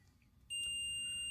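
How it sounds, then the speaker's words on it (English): After a short quiet moment, a high-pitched electronic beep from a bench grinder's shorted switch starts and holds as a steady, continuous tone. "You could hear it beeping."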